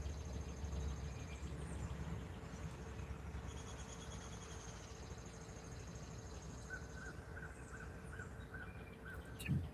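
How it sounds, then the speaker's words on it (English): Outdoors, a crow caws faintly in the distance, a few spaced calls under a steady hum of ambient background noise, with no speech. "Barely hear that crow in the background."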